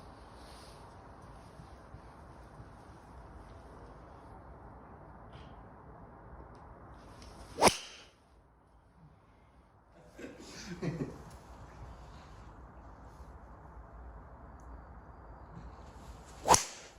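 Golf shots struck with a TaylorMade Stealth driver during club testing: two sharp, loud impacts about nine seconds apart, each a crisp whip-like crack, with a murmur of voices and a soft rustle between them.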